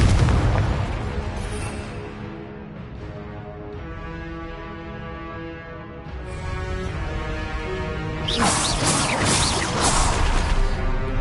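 Spell blasts in Hogwarts Legacy—Incendio, Expelliarmus and Confringo—crackle and burst over a dense, loud wash of game sound, with a bright fiery surge toward the end.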